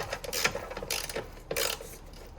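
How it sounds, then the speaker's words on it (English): A ratchet wrench fitted with a 13mm socket loosens the battery clamp bolt on a 2012 Nissan Micra, giving close, repeated bursts of quick metallic clicking with short pauses between strokes and no voices. "gonna need a 13mm socket to get this bolt from down here out"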